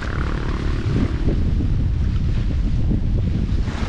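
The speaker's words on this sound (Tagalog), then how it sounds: "lakas ng hangin" Strong wind roars and buffets the microphone continuously in an open rice paddy, a loud, low rumbling rush with no letup.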